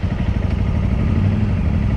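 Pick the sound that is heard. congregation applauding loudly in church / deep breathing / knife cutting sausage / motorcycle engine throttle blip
motorcycle engine throttle blip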